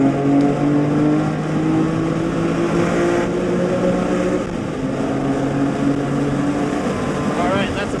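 A BMW E46 M3 track car at Sonoma Raceway, heard from inside as it brakes for the hairpin, engine droning steadily and dipping as it slows, with the driver talking over it.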